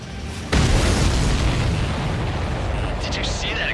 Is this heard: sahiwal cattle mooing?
no